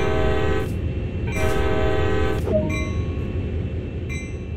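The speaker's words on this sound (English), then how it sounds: "We're about to move, so make two blasts of the horn to alert anyone around." Two long, loud train horn blasts sound one after the other over a steady rumbling engine drone, with fainter tones afterward, from the video game Train Sim World.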